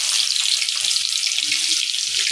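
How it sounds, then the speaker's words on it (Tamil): Chopped ginger and garlic with fennel seeds frying in hot oil, giving a steady, bright sizzle that hisses evenly throughout with no talking. "நல்லா பொரியுது"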